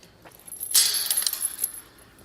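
A side garden gate swings open with a brief metallic rattle and clank lasting about a second, close by and with nobody speaking.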